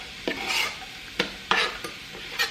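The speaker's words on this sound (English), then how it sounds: "You can hear the oil's hot because the onion is sizzling." Diced onion sizzling in hot olive oil in a pot, a close, soft crackling hiss broken by several scraping stirs of a utensil against the pot, with no voices.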